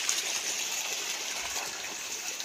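Irrigation water running along a field channel on a farm, a steady, continuous rushing gush heard close and fairly loud throughout.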